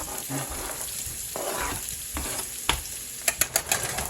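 Spam sizzling and frying in a very hot pan, a steady crackling hiss throughout with a few sharper pops and stirring clatters near the end, no talking.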